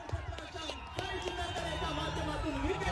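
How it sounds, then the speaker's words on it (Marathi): Kankavli cricket team and supporters celebrating a wicket outdoors, a burst of excited shouting and cheering mixed with lively chatter and clapping close by. "कणकवली संघाचा जल्लोष बघा."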